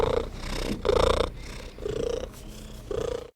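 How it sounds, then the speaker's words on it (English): Domestic cat's solicitation purr, a loud close rhythmic rumble in repeated breathing cycles with a higher, cry-like whine riding on top of each phase, alone without talk. "we had solicitation and non-solicitation purrs from 10 cats"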